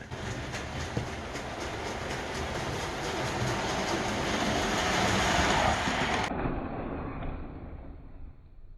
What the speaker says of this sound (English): So there's Henry the Green Engine from Thomas and Friends by Bachmann.